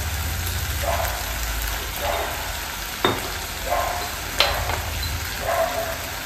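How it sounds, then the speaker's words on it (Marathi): Crab pieces sautéing in hot oil with salt and turmeric give a steady close sizzle, with several louder stirring scrapes and a couple of sharp utensil clicks against the pan. "ते छानपैकी तेलामध्ये परतून घ्यायचं"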